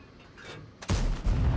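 A tank cannon fires in World of Tanks, firing from an EBR-105: one sharp, booming blast followed by a second heavy report, loud and close against quiet battlefield ambience.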